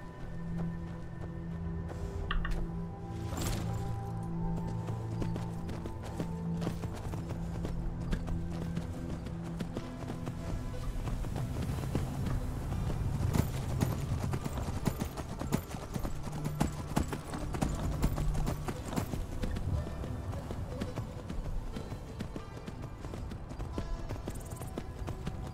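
A horse's hooves clip-clop steadily in the Skyrim video game, a continuous rhythmic trot over a game soundscape with a brief whinny, lasting the whole stretch at moderate loudness.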